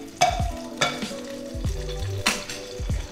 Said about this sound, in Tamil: சின்ன வெங்காயம் இப்போ வதக்க போகிறோமா சார்?